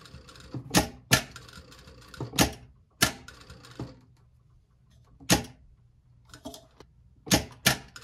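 A domestic sewing machine runs in short, gentle bursts while stitching a bluff pocket, a sharp mechanical clatter starting and stopping about eight times, with quiet pauses between the bursts.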